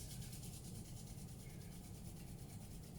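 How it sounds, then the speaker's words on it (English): Palms being rubbed together briskly to generate heat during a children's yoga session, a soft continuous swishing friction sound, quiet and close, with no talking. "Rub your palms together. Generate some heat."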